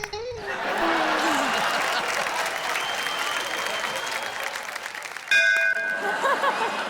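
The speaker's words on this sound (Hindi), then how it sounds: "आपकी ये जो घंटी है थोड़ी देर से बजी" A bell rings out on a comedy show stage, its clear ringing tones emerging near the end over loud, sustained audience applause and crowd noise.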